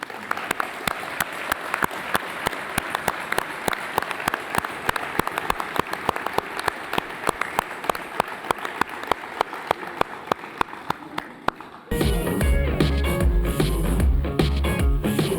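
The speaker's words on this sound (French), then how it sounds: "On les applaudit." An audience claps steadily and densely through an award ceremony, a sustained wash of many hands, ending abruptly when loud music cuts in.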